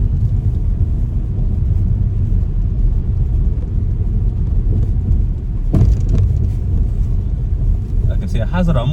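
A car on a driving test route in Raheny gives a steady, loud low engine and road rumble from inside the cabin, with a brief louder bump partway through.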